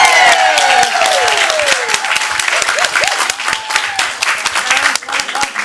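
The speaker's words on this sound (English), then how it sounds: "one more round of applause for all" Audience applause at a school board of education meeting honoring a group of people, loud clapping with scattered cheers and whoops over it, continuing throughout.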